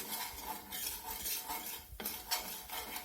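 A flour and butter roux cooking for shrimp étouffée, with a utensil scraping and clinking against the pot as it is stirred, a quiet continuous sizzle underneath and a sharper clank near the end.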